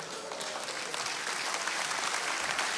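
A concert audience claps and applauds steadily for a singer, a dense crowd of hands sustained throughout at a moderate distance.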